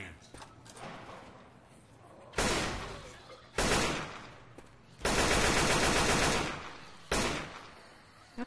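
Gunfire from a weapon in the zombie shooter Left 4 Dead 2: several loud, abrupt bursts of rapid shots separated by short pauses, with a longer sustained volley in the middle, over quieter game ambience.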